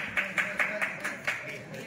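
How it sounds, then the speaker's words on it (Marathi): An audience at a state sports day wrestling bout claps in a short burst of roughly eight evenly spaced claps, moderately loud, with a voice faintly present underneath. "सुंदर अशी कुस्ती, सर्वांनी टाळ्या वाजवायच्या"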